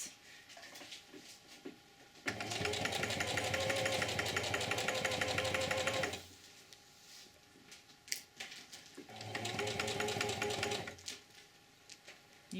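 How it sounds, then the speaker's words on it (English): A sewing machine stitches canvas moccasin uppers in two bursts of rapid, steady mechanical chatter, the first about four seconds long, then a pause, then a shorter second run, close and clear. "You can hand crank your machine, and that moves the foot up and down manually"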